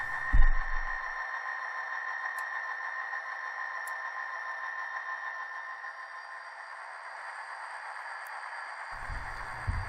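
Scale Trains Rivet Counter SD40-2 model locomotive running through track switches, its sound module giving a steady diesel engine drone with faint clicks, continuous for several seconds with soft thumps at the start and end.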